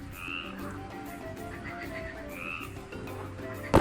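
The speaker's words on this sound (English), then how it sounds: "It's a frog." A frog croaks in a steady, fairly close series of pulsing calls that repeat with short gaps, with no talking over them.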